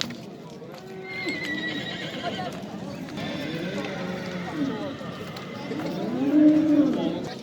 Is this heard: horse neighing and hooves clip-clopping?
yes